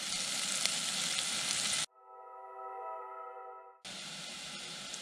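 Onions sizzle in a pan with a steady close hiss that drops out briefly in the middle, where a tonal beep stands alone, before the frying returns just as loud.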